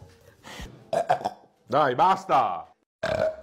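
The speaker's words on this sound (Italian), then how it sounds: "basta ruttare, non educato" A child lets out several loud, drawn-out burps in close succession, with a voice speaking briefly in between.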